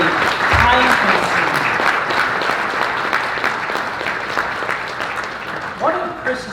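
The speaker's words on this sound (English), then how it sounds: "I think we should give him a round of applause for that" A crowd breaks into sustained applause at a journalism hall of fame induction, loud at first and tapering slightly, with a voice briefly heard near the end.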